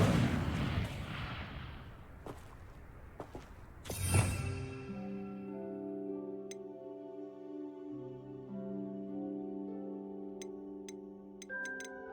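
A burst of fire from the Incendio spell lighting pyres in Hogwarts Legacy: a loud whooshing flare with crackle around four seconds in, after earlier rumbling noise, then fading into sustained tonal musical chimes and bright ringing accents.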